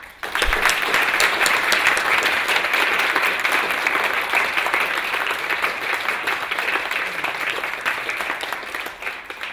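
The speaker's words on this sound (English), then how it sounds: "perhaps a final round of applause for the panel" Sustained applause from a seated audience at an engineering panel event, a dense wash of clapping that stays loud throughout and fades slightly toward the end.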